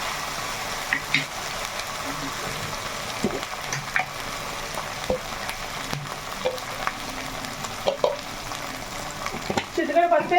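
Onions frying in a pan with ginger-garlic paste just added for a chicken dish, a steady close sizzle with occasional stirring scrapes and clinks running throughout.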